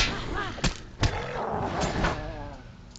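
Bow shots in the Lord of the Rings Online video game, two distinct thumping releases about half a second apart over a busy background of combat sound effects and a voice, then softer hits trailing after.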